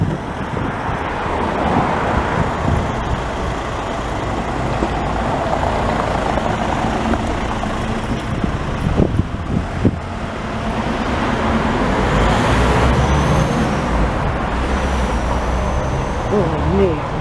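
Car traffic on a city street in the Oststadt district of Hildesheim, a loud continuous roar of passing vehicles heard close by while walking, with someone speaking German over it.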